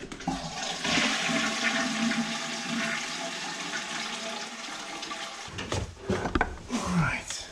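Water rushes out of a domestic plumbing tap opened to turn off the supply and relieve system pressure, a steady hiss that cuts off and is followed by a few clunks and handling noises.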